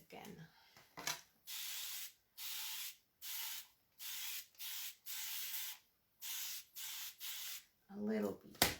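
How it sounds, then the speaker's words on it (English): Spray paint goes onto a table during a makeover, about ten short even hissing bursts in a steady rhythm, close and clear, with a brief voice at the start and the end. "a little bit of spraying"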